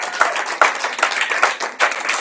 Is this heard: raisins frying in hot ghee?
no